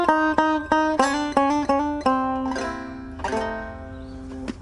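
Banjo strumming a descending chord line against a song's melody: a run of crisp, ringing strums that step downward, then settle into longer sustained chords, close and unaccompanied with no talking.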